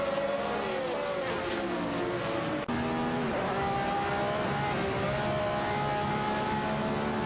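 Video game race car engines, including a McLaren ITC and a Brion Pone 154 Chevrolet in an AI race, whine and shift pitch as they rise and fall, with a sudden cut midway before the droning resumes.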